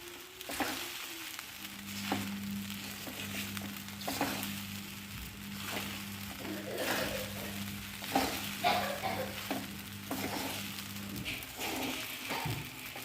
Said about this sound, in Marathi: आता याला छान हलवायचं आहे पूर्ण याला एकजीव करायचा आहे